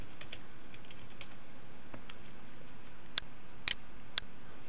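Quiet, irregular keystrokes on a computer keyboard during a software tutorial, followed by three sharper, louder clicks near the end, with no talking.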